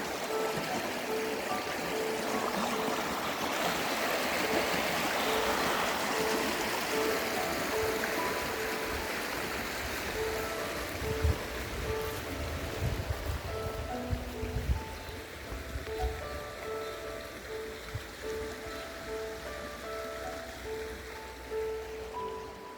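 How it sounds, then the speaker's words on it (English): A small babbling brook flows in Narracan Falls, a steady, close wash of trickling water with soft gurgles and a few scattered splashes, heard alone. "This is our little babbling brook."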